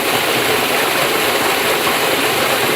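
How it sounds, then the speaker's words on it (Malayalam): Rainwater overflowing out of a brimming pond pours in a steady, loud rush of running water, continuous and close with no talk. "ഒരു കുളം മഴയാകുമ്പോൾ നിറഞ്ഞ വെള്ളം ഇതുപോലെ പുറത്തേക്ക് ഒഴുകുകയാണ്"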